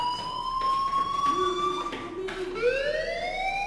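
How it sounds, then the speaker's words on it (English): A fire alarm rings in the video game Life is Strange, a steady electronic siren tone that holds and then sweeps upward, fairly loud and alone. "Hey, do you hear that fire alarm?"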